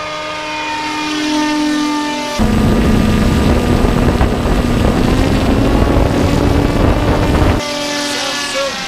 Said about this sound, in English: Hey, a flying car appears.